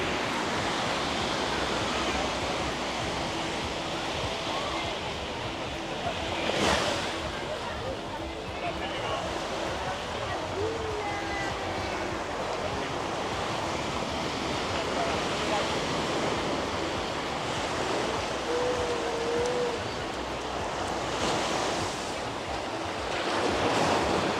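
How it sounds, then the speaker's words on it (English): Surf washing onto the sand at Playa Bonita beach in Las Terrenas, Dominican Republic, a steady broadband roar with swells rising and falling, fairly close, with wind and faint voices mixed in. "I'm gonna go right down on the beach."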